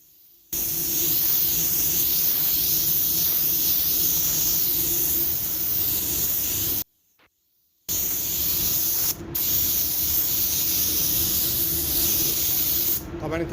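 A spray gun applies a second coat of red paint to a car fender over filler inside a paint booth oven. Close, loud hissing bursts run for several seconds, then a short pause, then more spraying broken by brief gaps.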